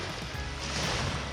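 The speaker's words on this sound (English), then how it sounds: "So waves just barely lapping the shore." Small waves barely lapping white sand on a glassy, calm beach near Perth, Western Australia, heard as a soft, steady wash of surf noise that swells slightly near the end, with no voices.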